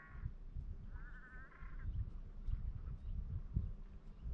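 A lone duck sits in the middle of a lake in Voyageurs National Park, calling by itself; faint, distant honking quacks come in a few short bursts over steady low rumbling background noise.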